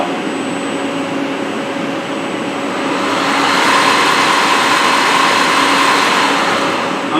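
A friction stir welding machine runs with a loud, steady whine and broad whooshing roar that swells slightly as it moves, holding a constant hum throughout.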